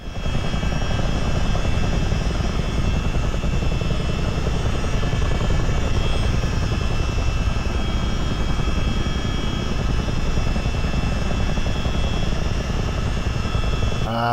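US Army Chinook helicopter in Microsoft Flight Simulator, a loud continuous rotor and turbine drone with steady engine whine, unbroken for the whole stretch with no talk.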